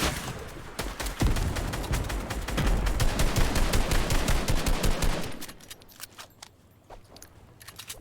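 Rapid bursts of automatic gunfire in a Fortnite trio-versus-squad match crackle loud and dense for about five seconds, then give way to quieter, scattered shots.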